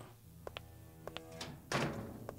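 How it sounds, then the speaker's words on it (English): A door in an indie horror video game swings shut with a single solid thunk near the end, preceded by a few faint taps and creaks over a low quiet ambience, without speech. "That door closed."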